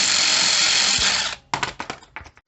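A power tool whirs steadily and loudly, then stops and clicks through a few short bursts, turning a spring compressor while front springs are replaced on a MK4 Ford Cortina.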